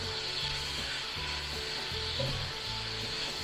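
Fajita skillet pie filling sizzles steadily in a hot skillet while being stirred, with soft scraping and knocking from the spoon under a constant bright hiss.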